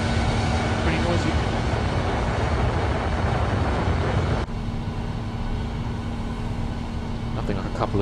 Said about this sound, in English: Nothing like a couple of General Electric 90s forcing their way up.